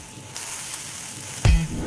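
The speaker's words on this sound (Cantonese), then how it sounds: "將啲雞汁水啊淋翻落去啊，呢就係煎雞嗰啲雞汁啊" Pan-fried chicken sizzles steadily in a hot pan, then a louder burst of crackling spits up as the chicken's own juices are poured back over it, close and alone.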